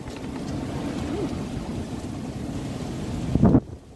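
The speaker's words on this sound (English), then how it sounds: "the wind is still bad and it's real smoky" Strong gusting wind during a windstorm in Omaha, Nebraska, roaring steadily across the microphone and swelling into a louder buffet near the end before dropping off.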